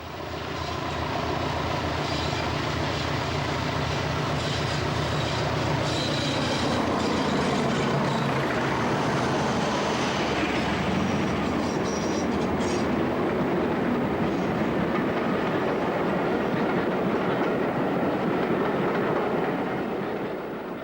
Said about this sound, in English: the last train was worked by no less than 4 locomotives, 2 peaks, a Class 20 and a Class 31